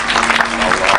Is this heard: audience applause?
yes